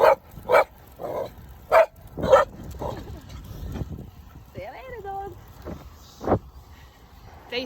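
A dog barks in a series of short, sharp bursts outdoors near a church in Turkey, close and fairly loud, with a whine-like pitched sound partway through.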